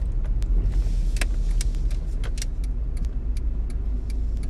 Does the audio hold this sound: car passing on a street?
yes